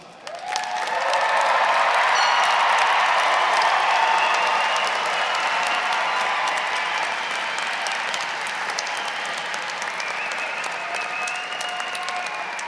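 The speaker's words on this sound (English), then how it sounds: "I ask you, with the heartfelt applause of all present, to move your tassels from the right to the left." Large crowd applauding at a university fall commencement ceremony as graduates move their tassels, loud sustained clapping with some cheering that swells quickly and then stays strong, with a faint voice over it later.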